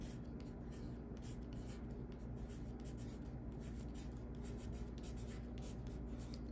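Pen writing on paper close to the microphone, continuous rhythmic scratching strokes over a steady background hum, with no talking.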